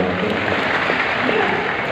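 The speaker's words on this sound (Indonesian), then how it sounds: "Tepuk tangan sekali lagi yang paling meriah." Church congregation applauding during a sermon, a dense continuous wash of clapping from a crowd, steady and moderately loud throughout.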